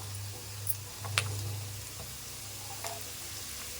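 Chopped onion and cabbage sizzle in a pan while being stir-fried for egg fried rice, a soft, steady frying hiss with a low hum and a few faint clicks of stirring.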